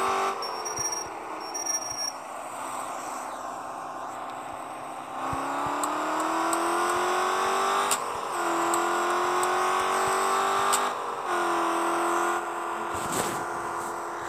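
An Audi A6 V8 quattro with straight exhaust pipes drives along, its engine humming steadily and rising in pitch as it accelerates through several gear changes, heard from inside the car with no talking.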